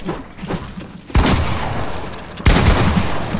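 Gunfire in the video game Fortnite during a one-on-one box fight: two sharp, loud shots about a second apart, each with a brief ringing tail over faint background game noise.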